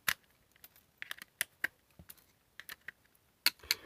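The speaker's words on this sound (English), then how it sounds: "Let's use a pair of pliers to rip the pins out." Pliers yanking pins out of an over/under voltage detector give a close, irregular series of sharp clicks and small snaps with quiet gaps between them, and no voices.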